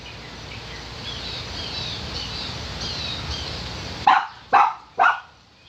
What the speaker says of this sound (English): you are a wild dog